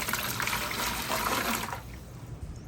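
One liter of water is poured into a container for a soil inoculation spray mix, a steady, close rushing splash that tapers off and stops near the end.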